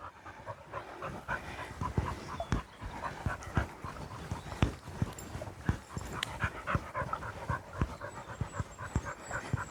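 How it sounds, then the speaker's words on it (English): A spaniel pants heavily and rapidly close to the microphone in an English woodland, a steady run of quick, breathy huffs with occasional faint whimpers and no speech. "Apologies for the very puffy spaniel next to me, if you can hear him on the microphone."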